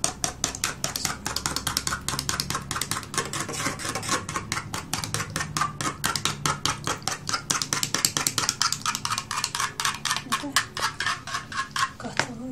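Eggs beaten with salt in a bowl over cooled rice for Azerbaijani dovga, a rapid, steady train of sharp utensil clicks against the bowl that keeps up throughout.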